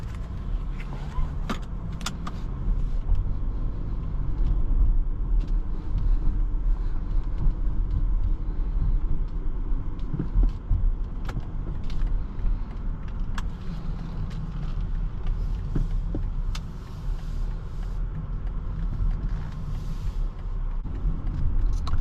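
A 2022 BMW X3 sDrive30i M Sport is driven on the road, a steady low engine and road rumble with tyre noise and faint cabin rattles heard from inside the car, continuous throughout.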